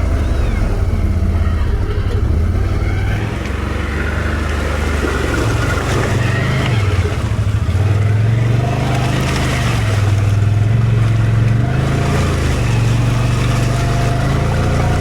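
A Can-Am Outlander 1000R ATV in four-wheel drive crawls through a mud hole, its engine droning loud and close with rising and falling revs under buffeting wind noise.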